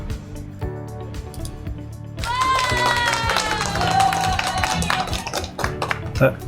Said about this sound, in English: I have a sound effect thingy here and I just pushed it